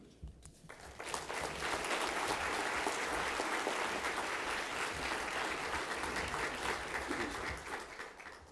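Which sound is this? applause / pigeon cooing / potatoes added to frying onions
applause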